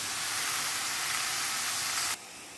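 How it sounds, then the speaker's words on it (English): Vegetables for vegan pad thai (celery, mushrooms, carrots and sugar snap peas) sauté in a hot pan, giving a steady, close broadband sizzle that holds evenly and then drops off sharply near the end. "The vegetables are sauteing and they smell wonderful."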